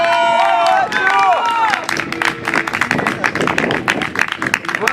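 A small group breaks into brisk clapping after a moment of excited voices, the applause continuing at close range with a lively, uneven patter until the end.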